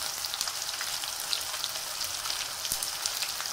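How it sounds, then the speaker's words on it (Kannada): Avalakki mixture ingredients sizzle and crackle steadily in a hot pan, a close, continuous frying hiss with scattered pops and no voices. "ಮೀಡಿಯಮ್ ಆಗಿ ಫ್ರೈ ಮಾಡೋಣ"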